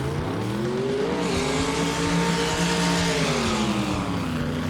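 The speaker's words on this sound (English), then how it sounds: "listen for these turbos when he stands on this" A turbocharged ski race boat engine with a two-speed transmission roars hard under full throttle, a loud, continuous broadband drone whose pitch climbs and then levels off, with no voices.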